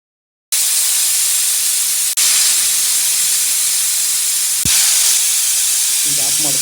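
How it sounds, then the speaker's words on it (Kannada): A pressure cooker cooking chicken curry lets out a loud, steady hissing whistle of steam that runs for several seconds after a sudden start, with brief breaks in the jet. "2 ವಿಸಿಲ್ ಬರಬೇಕು."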